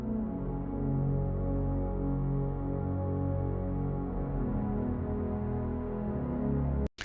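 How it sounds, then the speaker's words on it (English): Sustained, rich synth pad chords made in Serum, in a Jupiter 8 style for a melodic techno drop, play alone with steady loudness and a smooth chord change before cutting off abruptly at the end. "This is more like a Jupiter 8 style sound."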